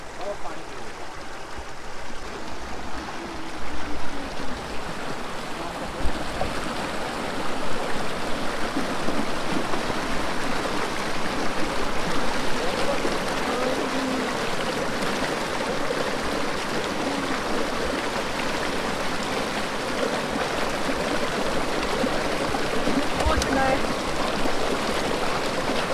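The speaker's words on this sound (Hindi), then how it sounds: "चाका का जो पानी का जो मेन स्रोत है वो यहीं से निकलता है।" Mountain stream water at Chaka meadows in Kinnaur, Himachal, rushes in a continuous broadband flow, moderately loud and steady, with people talking over it at times.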